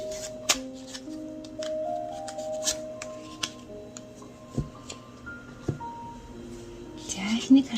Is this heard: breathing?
no